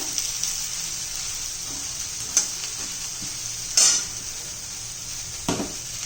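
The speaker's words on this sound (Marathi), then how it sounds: "आणि बारीक गॅसवर पहिले थोडीशी शिजवून घेऊया" Masala bhindi (okra) cooks on a low gas flame with a steady, quiet sizzle throughout, broken by a few sharp stirring scrapes of a utensil against the pan.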